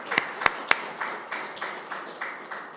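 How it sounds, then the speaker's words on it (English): Audience applause for panelists begins with a few sharp, loud claps, then settles into a faint, thin patter of clapping that fades out. "Please give the panelists a round of applause."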